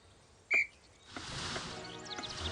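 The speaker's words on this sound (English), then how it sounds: "On my whistle, then." Madame Hooch blows one short, sharp whistle blast in a Harry Potter video game, the broom-flying lesson at Hogwarts. A soft whooshing flight ambience follows, with no voices.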